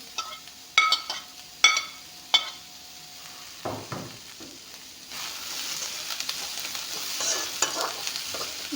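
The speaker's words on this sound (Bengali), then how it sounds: "পিঁয়াজখিনি অলপমান ভাজি ল'লোঁ এতিয়া নৰসিংহৰ পাতখিনি দি ল'ম" Onions frying with curry leaves in a pan: a few sharp metallic clinks and scrapes at first, then a steady, rising sizzle with light stirring, close by and without voices.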